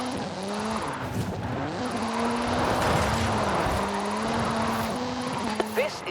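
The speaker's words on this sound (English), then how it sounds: "This is Mr. Kenneth Block's Hooligan Gymkhana 10 Ford Focus RS RX. 2-litre, turbocharged, front-mounted engine and all-wheel drive." Hoonigan Gymkhana 10 Ford Focus RS RX, a 2-litre turbocharged front-engined all-wheel-drive rally car in Forza Horizon 5, droning steadily with shifting engine pitch and brief tyre squeal, a voice talking over it.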